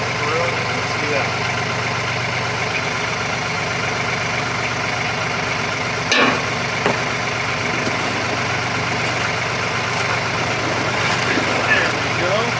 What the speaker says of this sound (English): Come over and grab that with the tractor.